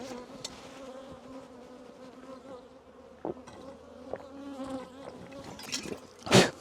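Honey bees buzz steadily around an open hive during an apiary inspection on a very hot day. The close, continuous droning is broken by occasional knocks and handling noises, and a louder burst comes near the end.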